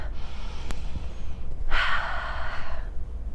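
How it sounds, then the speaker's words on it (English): A woman takes a single deep breath, drawing air in sharply and then letting out a longer, audible exhale, close and fairly soft, with no talking. "is to take a nice deep breath"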